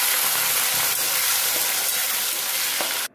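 Small potato pieces fry in hot oil with a loud, continuous close sizzle and crackle that cuts off abruptly at the end.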